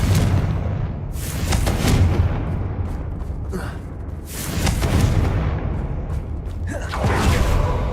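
Explosive spell impacts from the Hogwarts Legacy video game, a series of loud booming blasts with whooshing bursts recurring every second or two across the stretch, dense and close.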